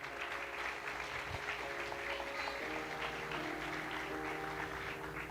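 Faint applause from a church congregation during a Mother's Day celebration service, a soft continuous patter of clapping with low sustained tones lingering beneath.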